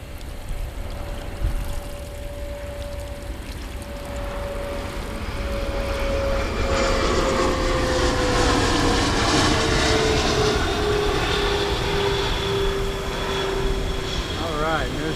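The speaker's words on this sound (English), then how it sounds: "Just had an airplane go over us" A fixed-wing airplane passes overhead near an outdoor garden railway layout, its steady drone swelling over several seconds with a slowly falling engine pitch and a broad wash of noise.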